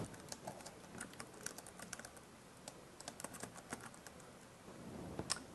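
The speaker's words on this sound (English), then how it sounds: "You can also type within Kurzweil." Typing on a computer keyboard, a quiet, steady run of close, light key clicks with a few louder taps, no voices.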